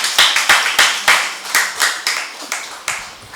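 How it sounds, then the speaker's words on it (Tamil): Audience at a village bhajan group's anniversary celebration clapping, about a dozen separate claps or small bursts in a loose irregular rhythm, fairly close and loud with no talk. "நல்லாவே கைத்தட்டல் பண்ணலாம்."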